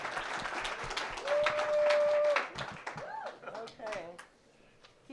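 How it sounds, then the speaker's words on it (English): An industry panel audience at Sundance claps for a producer being welcomed, a loud burst of applause that fades after a few seconds as talking voices carry on over the tail. "Clapping for Jay while I get to the next person"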